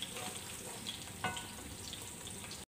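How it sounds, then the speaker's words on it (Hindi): Spice masala roasts in a pan as the base for shahi chanay, a steady close sizzle with a brief stirring clatter midway before it cuts off abruptly. "मसाले की जो है अच्छी तरह से भुनाई करेंगे।"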